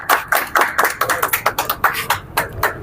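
A crowd claps to welcome a guest at a reception for a Lok Sabha candidate, with sharp, close, fairly loud claps in an uneven rhythm that stay steady for a few seconds, without voices over them.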